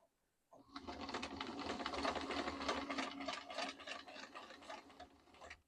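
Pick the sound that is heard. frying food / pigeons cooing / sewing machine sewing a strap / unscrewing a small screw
sewing machine sewing a strap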